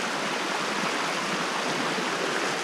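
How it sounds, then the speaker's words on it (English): Cold mountain spring stream at Sawtooth Campground, South Mountain State Park, North Carolina, running quickly and sliding over rock, a steady close rushing wash with no break, heard alone. "It's a nice cold mountain spring water."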